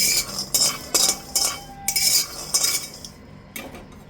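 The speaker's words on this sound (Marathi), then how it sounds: "गरम कढईवर मंद आचेवरती शेंगदाणे भाजून घ्यायचे" Peanuts dry-roasting on a low flame in a hot kadhai, a spatula scraping and stirring them in quick rhythmic strokes about every half second, close and clear with no talking.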